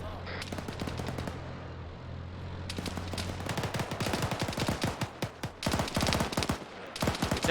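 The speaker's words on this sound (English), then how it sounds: "Is that enemy fire behind us?" Enemy gunfire in the military shooter Arma 3: sustained bursts of automatic rifle and machine-gun fire, rapid crackling volleys with brief pauses, moderately distant, with faint voices underneath.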